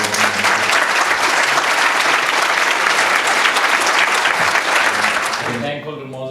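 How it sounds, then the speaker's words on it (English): Sustained audience applause for Lord Noon at a business enterprise evening, a dense wash of clapping from a large crowd that fills the room loudly and steadily, then tapers off near the end. "I think we should give a round of applause to Lord Noon."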